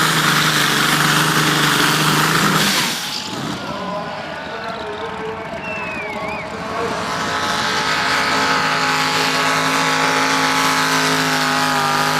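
Heavy tractor-pull engines roar steadily throughout at the Tooradin Tractor Pull, loud and close, with a brief dip in the din partway through before the rumbling builds again.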